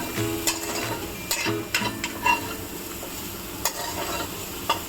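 Soybeans and chana dal fry in a little oil with a steady sizzle while a spoon stirs them, scraping and clinking against the pan at irregular intervals.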